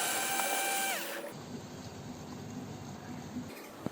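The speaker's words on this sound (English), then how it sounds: "Using the Phillips screwdriver, turn anti-clockwise to remove the screw." Phillips screwdriver turning a screw anti-clockwise out of a Honda Activa scooter panel, a close, soft mechanical whir and clicking with a brief tonal whine at the start, no talking.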